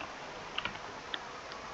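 Light, sparse clicks on a smart table keyboard, a few soft taps over a faint steady room hiss, quiet and close, with no talking.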